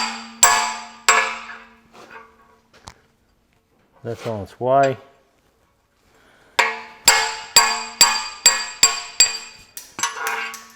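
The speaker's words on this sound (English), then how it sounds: "Follow it up with the punch, and I'll probably come around the side for this just so I can swing a big hammer." A hammer strikes a punch to knock a bush out of a Massey Ferguson 65 gearbox housing, giving sharp metallic blows: a couple early, then a rapid run of about ten evenly spaced close strikes, with a brief spoken remark between them.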